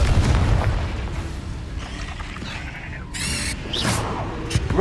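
The Confringo blasting spell explodes in Hogwarts Legacy, a deep booming blast with crackling debris over busy game ambience, followed by lighter magical shimmering effects.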